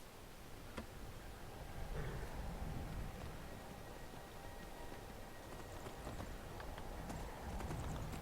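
Steady clip-clop of horse hooves in the video game Skyrim, a continuous even rhythm of fairly close footfalls over a soft ambient bed, with no talking.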